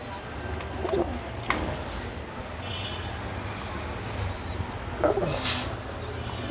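Caged pigeons coo in soft, low rounds a few times, close by, with a couple of brief rustles or wing flutters over a constant background hum.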